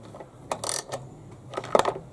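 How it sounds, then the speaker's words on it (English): Metal nuts are retightened on the recoil starter of a Hyundai lawn mower, giving a few soft ratcheting clicks and light metallic taps close up in a quiet setting. "I'll simply retighten the three nuts"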